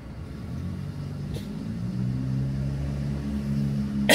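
A Toyota Fortuner GR 2.8 4WD diesel engine rumbles low and steady, rising slightly in revs midway, heard from inside with a couple of brief clicks.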